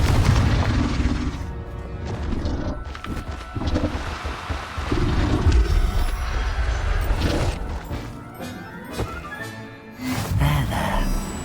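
Confringo fire spell explosions in Hogwarts Legacy, a booming, rumbling blast among a rapid series of casting impacts, loud and dense throughout with a final burst near the end.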